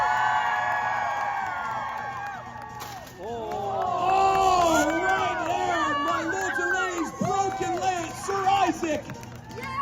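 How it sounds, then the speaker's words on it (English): A crowd at a medieval faire joust in Toronto cheers and whoops, with a sudden eruption of excited shouting and babble that rises and swells for several seconds. "And the crowd erupts with energy."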